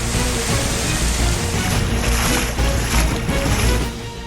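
Loud, steady rushing noise of heavy rain fills the scene, a dense hiss without pause, with no voices, on the Ozark Trail during flooding.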